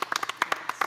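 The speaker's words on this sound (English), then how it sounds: "We're clapping for the rich guy?" Faint, thin clapping from a played video, about a dozen quick uneven claps over under a second, sounding distant and small.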